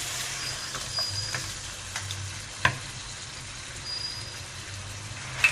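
Steady soft sizzling of garlic frying in a pan, with occasional clinks and a sharp tap from a utensil, no voices.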